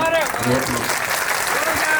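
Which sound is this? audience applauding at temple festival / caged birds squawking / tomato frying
audience applauding at temple festival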